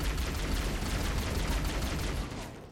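Rapid automatic gunfire in Halo Combat Evolved Anniversary, a dense continuous burst of shots throughout, loud and close, tapering slightly at the end.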